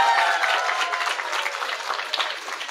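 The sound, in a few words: audience applause at an Islamic sermon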